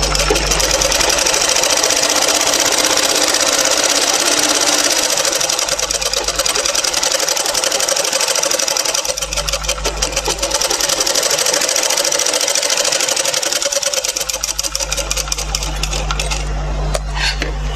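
A sewing machine puts top-stitching over six joined fabric pieces during tailoring, running loud and steady the whole time with a high mechanical whir, a low motor hum and brief shifts in pace.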